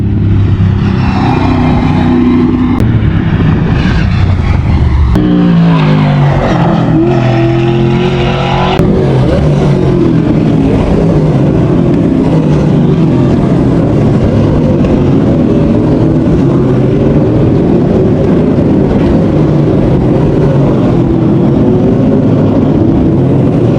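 Race cars circling the Mallala motorsport track, loud engines revving and roaring continuously, with gear changes and passing vehicles blending into a sustained wall of motor noise.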